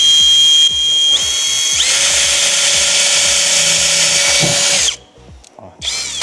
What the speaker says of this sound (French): Donc là, vous allez percer une première tôle à ce niveau-là.